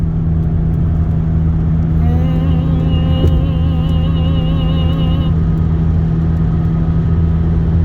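Volkswagen GTI MkV with new racing internals, new intake and turbo pipe, driven at night: a loud steady cabin drone with a rising, wavering whine as the engine pulls for a few seconds before settling back.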